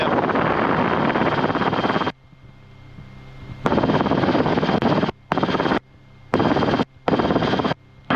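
A RotorWay helicopter in flight near Hardy Field, its loud steady rotor and engine roar cutting in and out in long and short stretches with near-silent gaps between.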